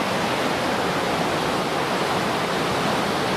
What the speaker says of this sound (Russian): Вот мы и доехали до водопада Урфабго